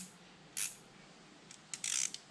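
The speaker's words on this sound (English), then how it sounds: "Let's wrench this thing down on here." A ratchet wrench clicks in short bursts while a bolt is tightened during a door installation, with a brief run of clicks and then a longer, denser burst, close and fairly quiet.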